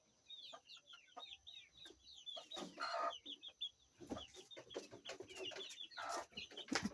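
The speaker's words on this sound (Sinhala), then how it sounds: "මේ බලන්නකො සද්ද කරන කට්ටිය මගේ. කුකුල් පැටව ටික." A flock of baby chicks chirps close by with rapid, overlapping high peeps, joined by scattered louder clucks and knocking noises.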